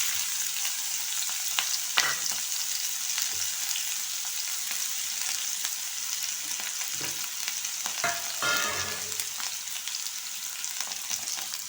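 Pieces of sweet pumpkin fry in a pan with a soft, even sizzle. A few light clinks and scraping stirs come through, and no one speaks.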